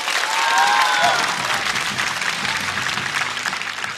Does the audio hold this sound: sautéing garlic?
no